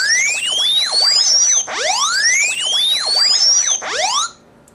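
A car alarm set off by the remote lock blares loudly in repeated rising and falling electronic whoops, cycling several times before cutting off abruptly.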